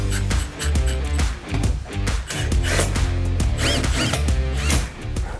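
A power drill boring holes into a cargo trailer wall to mount Summit Racing E-track cargo tie-downs: close, whining motor bursts that rise and fall with short pauses between them.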